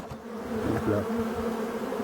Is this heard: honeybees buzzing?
yes